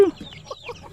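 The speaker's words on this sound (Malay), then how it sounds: "Patut ada 8 ekor anak ayam." Cartoon chickens and chicks cluck and chirp in short, close bursts, a brief busy flurry of fowl calls with no speech.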